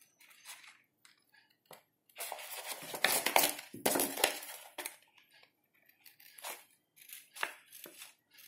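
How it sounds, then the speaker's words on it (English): Small scissors snip through paper sheets for a floral design in a series of quick, irregular crisp cuts and rustles, with a denser cluster of cutting in the middle, close and fairly quiet. "If you choose the small scissor, you can cut the turnings very easily."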